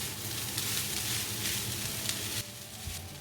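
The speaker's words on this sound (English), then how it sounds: "we add in the rice, which I have separated so that they are not in lumps. And we give it a good stir. Toss the rice about." Rice is stirred and tossed in a hot pan for egg fried rice, a loud, dense sizzle with rhythmic scraping swells, easing slightly near the end.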